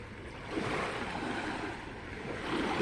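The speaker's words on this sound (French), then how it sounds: "You can hear the waves coming in," Small lake waves lap gently at the shore on Île Saint-Bernard in spring, a soft, steady wash with faint swells, recorded outdoors with a light breeze.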